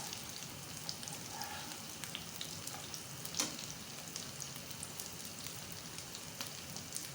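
Beef shami kabab patties shallow fry in oil in a pan, giving a steady, dense sizzle with fine crackling pops throughout, close and constant with no talking.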